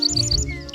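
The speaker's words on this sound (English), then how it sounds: "That's a bird singing." A small bird singing a quick run of bright, high chirps, close and clear with no voices over it.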